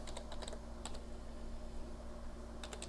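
Rapid keystrokes on a computer keyboard come in quick bursts with short pauses between them, close and clear over a steady background hum.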